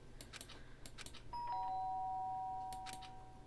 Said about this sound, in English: The sharp sound of the doorbell pierced my sleepy haze and pulled me back to the real world.